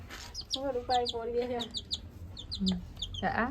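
A hen clucking in short bursts close by in a Gujarati village, mixed with high chirping calls and a brief human voice.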